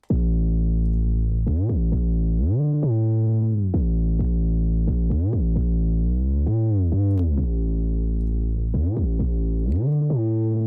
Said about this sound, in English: it adds a reverb effect to it. And by reverb effect, I mean it sounds like it's wide in space